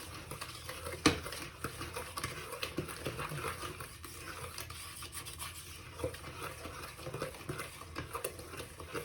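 Pineapple walnut cake batter being stirred by hand in a bowl, an irregular scraping and rubbing rhythm with soft knocks, close and fairly quiet, with one sharper clink near the start.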